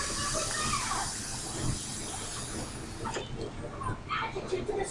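Drawing on a Plume Veil clone vape atomizer with the Delrin insert raised to block the top air holes gives a loud, close, continuous airy hiss, broken off after a few seconds by softer clicks and rustles.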